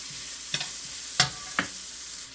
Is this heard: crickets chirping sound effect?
no